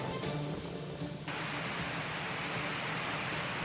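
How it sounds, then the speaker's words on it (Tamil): Heavy rain with strong wind beside a flooded national highway near Udumalai in Tiruppur district, a dense, unbroken roaring wash, loud and constant, with no voices. "பலத்த காற்றுடன் கூடிய கனமழை பெய்து கொண்டிருக்கிறது"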